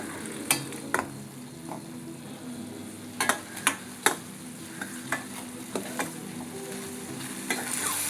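Mutton keema with garam masala and salt is stirred and mixed in a sizzling pan, a soft steady fry broken by intermittent sharp scrapes and taps of the spoon, close and unaccompanied by speech.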